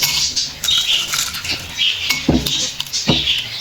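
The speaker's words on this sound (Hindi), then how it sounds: "अब इसमें बर्फ़ डालूंगी" Ice cubes drop into a glass of falsa juice, with several sharp clinks and rattles scattered across a few seconds, close and bright.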